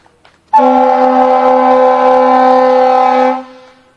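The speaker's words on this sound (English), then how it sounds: "Let's hear that siren." A loud steady fire truck siren wail sounds close by, holding one tone for about three seconds before cutting off and fading.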